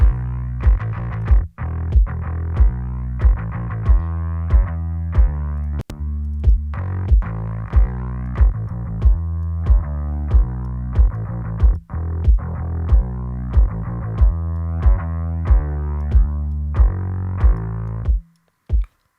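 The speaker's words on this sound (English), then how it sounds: "A bit more distortion." Heavily distorted electric guitar chords chug rhythmically with a gritty, saturated edge, loud and continuous before cutting off abruptly near the end.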